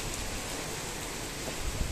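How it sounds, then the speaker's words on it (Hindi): Heavy rain falls steadily as a dense, even hiss, heard from a balcony in a hilly area with no other sounds standing out. "और अब आ गई है बारिश बहुत तेज।"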